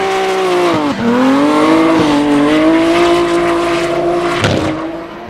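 Nissan 180SX and S14 drift cars battle at Hampton Downs in a D1NZ drifting round, engines roaring loud and sustained with rising and falling revs, brief dips as they shift and tires squealing through the run.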